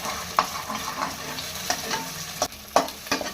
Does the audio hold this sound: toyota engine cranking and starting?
no